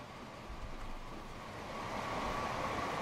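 A German steam train rumbles past in the Transport Fever video game, a low rolling rumble that swells slightly louder toward the end, with no voices.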